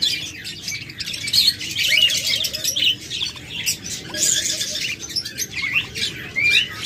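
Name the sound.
chirping of a lutino female and pied male pet bird pair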